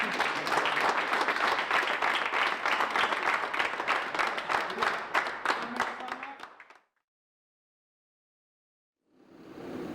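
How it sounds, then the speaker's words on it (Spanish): Audience applause after a bodyguard training demonstration: dense, steady clapping for about seven seconds, then silence, with a second burst of clapping starting near the end. "Señores, un aplauso para todos, por favor."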